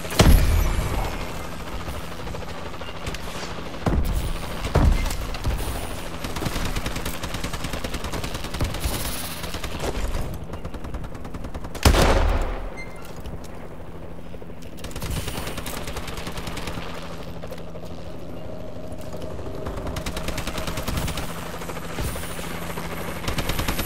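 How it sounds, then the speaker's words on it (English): Rapid automatic gunfire from a Warbird assault drone in a first-person shooter, loud sustained bursts with sharp individual shots over a steady mechanical drone hum. "Friendly assault drone inbound."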